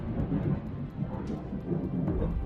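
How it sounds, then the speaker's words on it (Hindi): Thunder rumbling through a heavy rainstorm at night, a low, continuous roll under the steady hiss of rain, with no voices. "बाहर बारिश और तेज हो चुकी थी, रह रहकर बिजलियां कड़क रही थी।"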